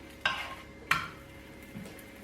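Madakku san, a folded sweet pancake, is turned over in a pan, giving two sharp scraping clicks of the spatula followed by a soft, quiet sizzle of frying.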